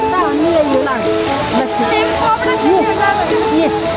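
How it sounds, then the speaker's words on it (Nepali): A traditional water-powered ghatta grain mill in Siklesh, Kaski, Nepal, runs with a steady rushing, sloshing water noise that fills the whole clip, while a person talks continuously over it. "हामी घट्टमा आएका छौँ यो घट्टा यहाँनिर पिसिन्छ पानीको फोर्सले यो चल्ने हो"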